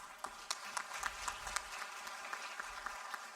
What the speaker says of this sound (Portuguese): com o aplauso de todos